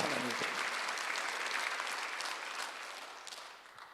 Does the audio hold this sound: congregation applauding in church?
yes